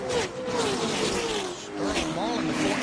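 Engine and tyre noise from the 2007 Daytona 500 as a NASCAR race car spins down pit road and hits the pit wall, loud and sustained, with commentators talking throughout.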